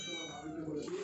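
A pet cat meows once briefly, close by, while a low voice murmurs underneath.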